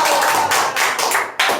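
Audience clapping after a spoken couplet, several loud bursts of claps rising and falling in close succession with a brief pause before a final strong burst.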